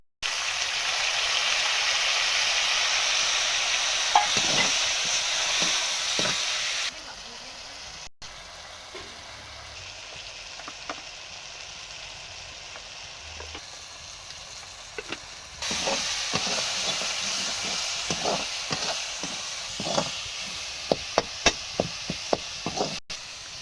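Onions frying and being stirred in a pan for a Chhattisgarhi muthiya roti dish, giving a steady loud sizzle with scraping spoon clicks; the sizzle drops to a low hush midway when covered, then returns with more stirring.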